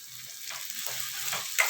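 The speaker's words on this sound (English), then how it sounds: "Now the onions have become transparent. It has to still change the color to brown. So I am frying it further." Onions fry in a pan for a chutney to go with fried rice, giving a soft, continuous sizzle. A few faint scraping stirs pass through it, with no talking.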